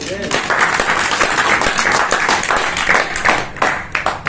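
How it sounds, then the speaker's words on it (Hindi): An audience at an agricultural talk about crop protection and sap-sucking insects breaks into brisk, continuous clapping, loud and close, lasting several seconds with a few louder bursts near the end. "एक बार ताली होना चाहिए।"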